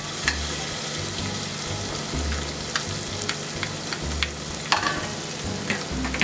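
Butter and chopped shallots frying in a pan, a steady close sizzle with occasional crackles and light stirring, with no talking.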